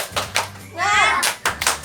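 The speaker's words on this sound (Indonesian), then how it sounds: "Tepuk semangat. Semangat." Schoolchildren perform the rhythmic 'tepuk semangat' spirit clap in a classroom, sharp hand claps in a quick patterned beat broken by a short chanted children's voice in the middle.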